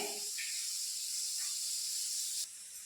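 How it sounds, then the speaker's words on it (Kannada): Steam from a pressure cooker hisses in a continuous, moderately loud rush after its whistles, the hiss holding steady and then dropping a little near the end. "ಈಗ 2 ವಿಷಲ್ ಆಯ್ತು ನೋಡ್ರಿ, ಗ್ಯಾಸ್ ಬಂದ್ ಮಾಡ್ಕೊಂಡ್ರನ"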